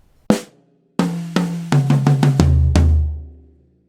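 A drum fill is played on a full drum kit: one single hit, a pause, then a quick run of descending tom strokes ending in a ringing low tom that fades out.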